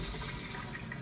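Tap water running steadily from a Kangen water machine, a continuous close rushing stream of moderate loudness heard alone.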